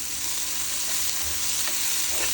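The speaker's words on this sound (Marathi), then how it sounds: "आता आपण ते मिक्स करून घेऊ सगळीकडे" Tomato and onion with pepper stirred and sautéed in a pan for masala vegetable Maggi, a steady broad sizzle running throughout with a few soft spoon scrapes near the end, close and even, no voices.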